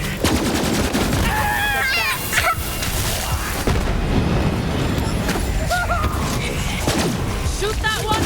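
Gunfire in the Borderlands 3 video game, dense bursts of automatic shooting and sharp shots over a busy battle din with whistling effects, voices heard now and then across the fight.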